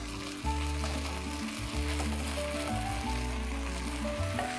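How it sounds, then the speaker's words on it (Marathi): Fried potato wedges tumble into a hot pan with garlic, setting off a steady, loud sizzle of frying that runs throughout, with a few soft stirring scrapes and no talk. "आता लगेच आपण हे आपले बटाटे जे फ्राय केले होते ना ते टाकणार आहोत।"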